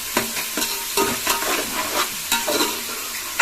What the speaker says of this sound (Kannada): ಒಂದು 5 ನಿಮಿಷಗಳ ಕಾಲ ಎಣ್ಣೆಲೆ ಫ್ರೈ ಮಾಡ್ಕೊಳ್ಳೋಣ ನೀಟಾಗಿ.